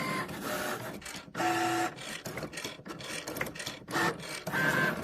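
A craft cutting machine whirs and stutters while cutting two holes for a button, with short bursts of motor noise separated by brief pauses and a few faint beeping tones, close and fairly loud.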